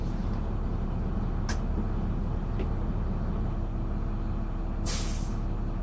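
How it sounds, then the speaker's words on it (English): A large truck idles with a loud steady rumble; sharp air hisses burst out a few times, the biggest near the end as the air brake governor cuts out at 120 psi. "That sound right there was your governor cutting out because it has reached 120 psi's."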